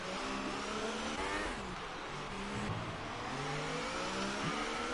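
A race car in a racing video game brakes hard into turn 1 at the end of a long, dusty straight in Mexico, its engine a loud, continuous drone with shifting pitch throughout.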